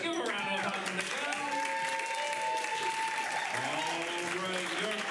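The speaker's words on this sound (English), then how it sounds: "Give them a round of applause when they go." Audience applause for an improv team leaving the stage at a Friday Night Fights improv competition show, steady sustained clapping from a crowd with cheering and voices mixed in throughout.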